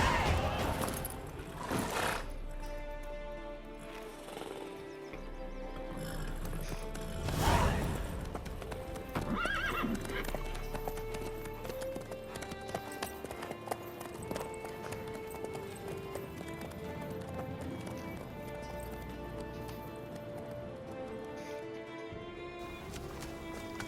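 Steady clip-clop of horse hooves with a horse whinnying in The Witcher 3: Wild Hunt, set against a sustained musical score; busy, continuous trotting throughout.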